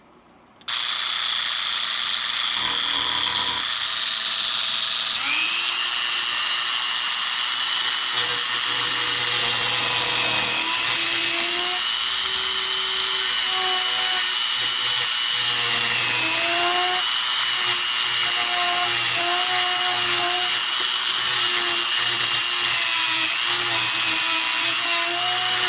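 A power tool whines steadily and loud while cutting a slot through JB Weld and fiberglass, its pitch wavering slightly under load with ratcheting, gear-like mechanical tones throughout.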